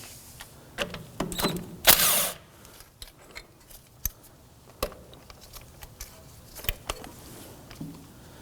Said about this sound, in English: We're now going to use a 12mm socket and remove the bolt holding our ABS wire here.